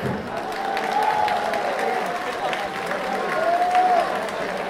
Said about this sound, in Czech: a taky ho potleskem přivítejte